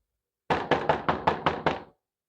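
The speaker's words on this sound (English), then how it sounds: "I'm going to knock on something like someone's knocking at a door." Seven firm knocks on a wooden door in a quick, even series, close and loud, then silence.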